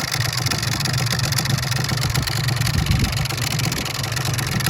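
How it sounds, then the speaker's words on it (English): Suzuki RGV250 two-stroke motorcycle idling steadily, its dry clutch giving a continuous metallic rattle over the low engine note, close and even throughout. "there's that lovely dry clutch rattling away"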